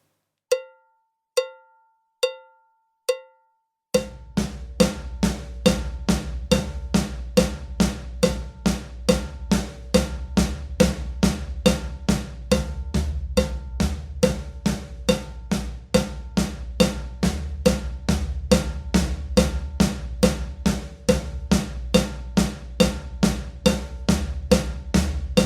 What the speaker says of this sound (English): left hand on the snare, right hand on tom 3, quavers again